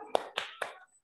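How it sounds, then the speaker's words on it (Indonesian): A kindergarten group's thumb-clap chant lands as three crisp, evenly spaced claps, each sharp and close, with a short ringing tail before quiet. "Tepuk jempol untuk anak pintar."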